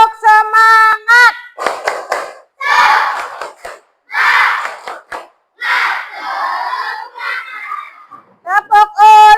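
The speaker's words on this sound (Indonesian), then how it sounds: "kita bertepuk semangat dulu ya" Classroom of children doing a rhythmic 'tepuk semangat' clap chant, with loud group shouts alternating with sharp bursts of clapping close by, in a quick start-stop pattern.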